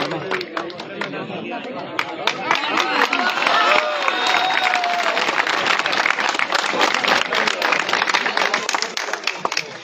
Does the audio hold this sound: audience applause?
yes